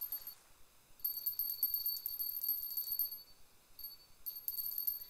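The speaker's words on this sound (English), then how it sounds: "It's weird, like a sleigh bell." A sleigh-bell bite alarm from the fishing game Russian Fishing 4 jingles in repeated bursts, a bright thin tinkling that starts and stops several times against quiet background.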